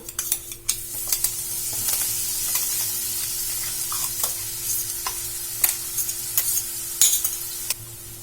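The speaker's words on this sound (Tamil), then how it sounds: "நல்லா மிக்ஸ் பண்ண பிறகு நம்ம மிக்சியில அரைச்சி வச்சிருந்த மசாலா வந்து இதில் போட்டுக்கலாம்" Ground masala and potatoes sizzle in a hot pan under a soft hiss, broken by repeated light clinks and scrapes of a spoon stirring, close and clear with no talking.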